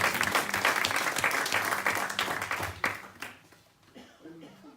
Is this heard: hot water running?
no